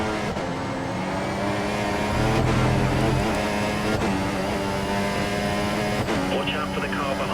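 A Formula One car engine in the F1 2014 video game, cockpit view at Hockenheim, screams at high revs, shifting gears in sharp steps as it speeds along, loud and continuous.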